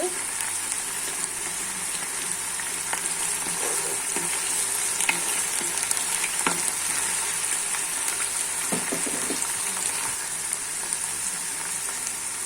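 Chopped green chilies fry in a pan for chicken rezala, a continuous crackling sizzle heard up close with scattered stirring scrapes throughout.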